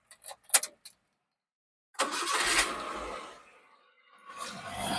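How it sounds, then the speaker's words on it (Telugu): A 2021 Maruti Suzuki Eeco with 71k reading cranks and catches after a few light key jingles, runs briefly, falls quiet, then starts revving again near the end. "వెహికల్ కి సంబంధించినటువంటి ఇంజిన్ కూడా స్టార్ట్ చేసి చూపిస్తాను"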